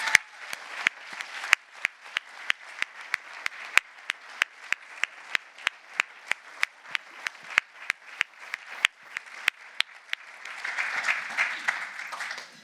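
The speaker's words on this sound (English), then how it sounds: "So I would kindly ask you for a huge applause." A conference audience applauds at closing remarks with sharp rhythmic clapping, rising into denser, louder clapping near the end.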